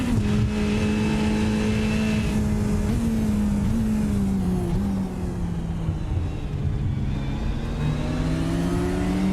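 A GT race car engine at Daytona drones loudly as its pitch slowly falls off throttle, steady and close, with no voices.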